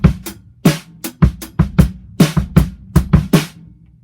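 Close and loud, a drum kit plays an odd-time groove in 5/4 with eighth notes on closed hi-hats, crisp cymbal ticks interleaved with punchy kick and snare hits in a steady, uneven-feeling pattern, no talking.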